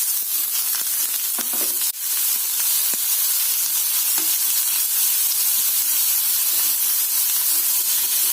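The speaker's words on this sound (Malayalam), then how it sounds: "ഇഞ്ചി, വെളുത്തുള്ളി, കറിവേപ്പില ഇതൊക്കെ എണ്ണയിലേക്കിട്ട് വഴറ്റുന്നു." Ginger, garlic and curry leaves sautéing in hot oil give a loud, constant hissing sizzle, with a few brief scrapes and taps of a stirring utensil near the start, close and with no voices.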